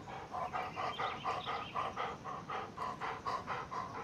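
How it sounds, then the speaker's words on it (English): A dog pants in quick, rhythmic bursts throughout, close and steady, with no voices over it. "Yeah, good dog."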